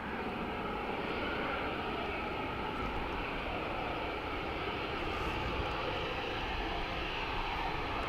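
An Aer Lingus airliner arriving from Amsterdam at Dublin Airport gives a steady, loud, broadband jet roar that holds constant throughout, with no talk over it.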